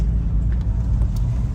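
BMW M4 F82 engine heard from inside the cabin as a steady low rumble and drone throughout, with no talking.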